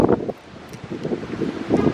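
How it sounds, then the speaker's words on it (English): Gusting wind buffets the microphone in uneven rumbling bursts, strongest at the start and end, with no voices. "Boy, it's windy."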